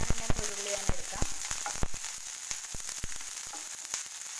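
Sliced onion sautés in a pan for tomato rice, a soft continuous sizzle broken by occasional clicks and taps of a spoon against the pan.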